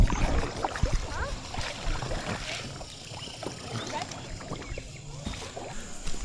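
A boat carrying tourists back through the Phong Nha caves in Vietnam, with close watery splashing and paddle or hull sounds, echoing faintly under the background noise.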